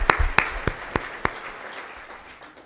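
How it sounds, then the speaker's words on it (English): Applause at a State of the City 2018 address in Moreno Valley: a few sharp, evenly spaced claps stand out up close, then a softer, thinning patter trails off within seconds. "let's give a round of applause for that."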